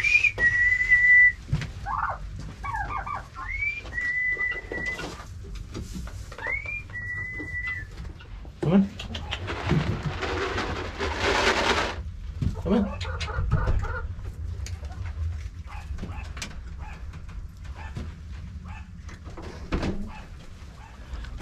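Guinea fowl around a chicken coop on a farm, giving several sharp whistling calls and clucks in the first half, then scratchy pecking and rustling with faint voices nearby, moderately close.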